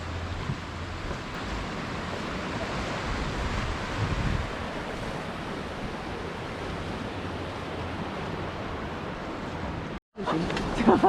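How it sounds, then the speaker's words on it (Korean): Sea waves washing beneath a seaside walkway over the water on Muuido island, heard as a steady broadband surf wash with wind noise, moderately near. The sound briefly cuts out near the end. "이렇게 물 들어왔을 때 오면 파도 소리 들으며 바다 위를 걸을 수 있습니다"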